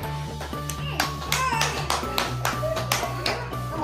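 At a birthday gathering, hands clap in a quick rhythmic series of sharp, close claps, with soft voices audible in the background.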